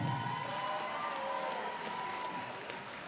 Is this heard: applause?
yes